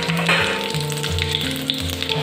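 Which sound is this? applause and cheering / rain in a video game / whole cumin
whole cumin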